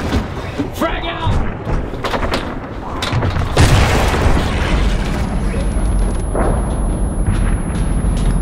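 A grenade blast during a zombie attraction in California, a deep loud boom rising from scattered clatter and staying heavy for several seconds, with voices calling out around it.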